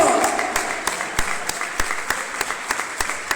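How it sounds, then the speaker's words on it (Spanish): Congregation clapping during an evangelical church service, sharp claps in an irregular rhythm that grows into a quicker beat, over a faint background of voices and hall reverberation. "Dale un fuerte aplauso al Señor"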